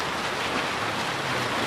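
Steady rain falls outdoors in a rural Sundanese setting, a dense continuous hiss with no clear breaks, fairly loud and even throughout, with no voices over it.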